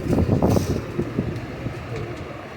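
Soft low cooing from a teddy pigeon, a few repeated coo pulses close by at a moderate level over faint background noise.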